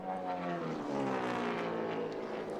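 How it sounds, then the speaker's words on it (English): A NASCAR Cup car engine at the 2007 Kobalt Tools 500 roars past with a steady, continuous harmonic drone, loud and sustained throughout, its tone flat and slightly uneven rather than crisp. "You heard Harvick's engine as it went past sounding very flat."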